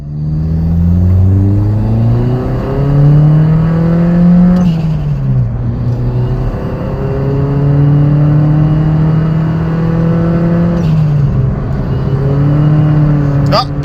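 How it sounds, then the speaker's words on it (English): A 2012 Chevy Spark with a slipping clutch revs hard, its engine climbing repeatedly in pitch with little change in speed, then dropping and rising again in loud, droning sweeps close to the microphone. "I'm going to post a clip now so you guys can see how bad the clutch slip was"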